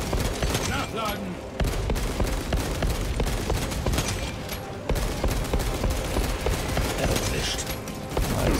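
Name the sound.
gunfire in video game Warhammer 40k Space Marine 2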